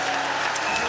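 Church congregation applauding loudly during a worship service, a dense steady wash of clapping that fills the whole moment without a break.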